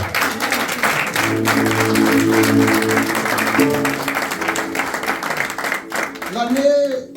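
A church congregation claps and cheers in praise, a dense, steady wash of applause lasting several seconds with voices and tones sounding through it before it fades out.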